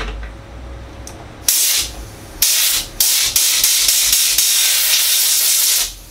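Compressed air from a compressor blasting debris out of the fan of a Rinnai tankless water heater: a faint hiss, then loud bursts of rushing air, several short and one long sustained blast.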